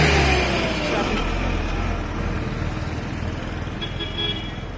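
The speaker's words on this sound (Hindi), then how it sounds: "तो इसी ट्रैफिक की मैं बात कर रही थी" Busy road traffic near Sitapur at night on a Delhi to Kedarnath trip, with steady engine rumble from cars and motorcycles and occasional horn toots, continuous and fairly close.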